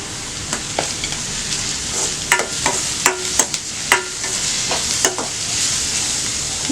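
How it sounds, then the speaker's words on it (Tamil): Onions frying in hot oil for a Tamil squid fry, with ginger and garlic added, stirred by a utensil scraping the pan in irregular clinks over a steady sizzle, close and moderately loud, no talking. "இப்போ வெங்காயம் நல்லா வதங்கிடுச்சு. நம்ம கொஞ்சம் இஞ்சி பூண்டு போட்டுக்கலாம்."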